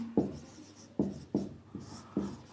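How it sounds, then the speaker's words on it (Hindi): Pen or chalk strokes write out a definition during a biology lesson on seed dormancy, heard as a series of five distinct tapping, scratching strokes spaced roughly half a second apart, close and fairly quiet, with no talking. "मैं डेफिनेशन लिखता हूं आपको।"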